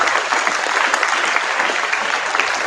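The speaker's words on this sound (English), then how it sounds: "Let us all give them a round of applause." Loud, steady applause from a school audience at a class 9 and 10 English debate competition, continuous clapping with no voices over it.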